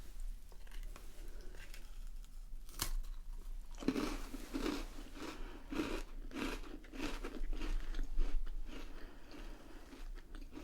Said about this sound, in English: let me have a taste of the old hobnob.